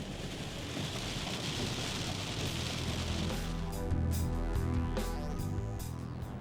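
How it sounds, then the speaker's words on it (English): Heavy rain pours down steadily in a dense, hissing roar with no break, a continuous downpour heard up close at Dallas-Fort Worth International Airport. "It is downpouring, man."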